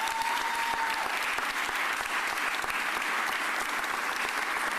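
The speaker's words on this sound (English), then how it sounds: "Give Joe Grace a round of applause." A room full of people at a Philadelphia mayoral press conference gives a steady round of applause, dense even clapping held at a constant level throughout, with no one speaking over it.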